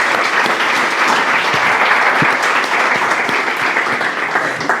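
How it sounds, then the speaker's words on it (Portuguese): Dense audience applause at a live-recorded programme event in Alcanena, a sustained loud wash of many hands clapping without pause. "Uma salva de palmas para ela."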